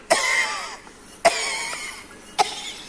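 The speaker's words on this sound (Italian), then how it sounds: "Di nuovo, tosse" Three harsh coughs, each a sharp burst trailing into a raspy tail, evenly spaced and close by, with quiet breathing between them.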